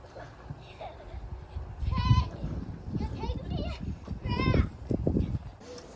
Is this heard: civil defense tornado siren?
no